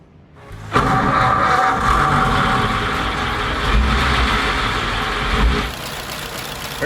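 1934 Ford Model BB V8 dually truck engine catching and running at a steady, close, rumbling idle with a slightly uneven pulse that settles down near the end.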